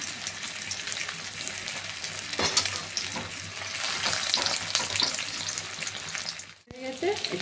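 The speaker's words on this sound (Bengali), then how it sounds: "এই তেল গরম হয়ে গেছে, এবার মাছগুলো ছেড়ে দিচ্ছি। এই দুটো দুটো করে ভাজবো।" Pieces of katla fish fry in hot oil with a loud, crackling sizzle, and a few clinks and stirs come through. The sound cuts out abruptly near the end before a brief burst of noise.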